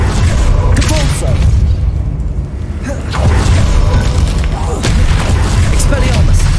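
Booming Depulso force-spell blasts in the Hogwarts Legacy video game, loud and dense, hitting in a steady run of heavy impacts over a constant rumbling battle din.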